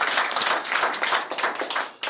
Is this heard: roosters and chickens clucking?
no